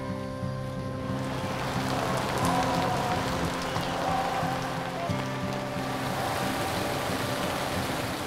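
Rain falling steadily in Baclaran, a dense continuous hiss of drops with a faint low hum beneath, moderately quiet and unbroken, no voices.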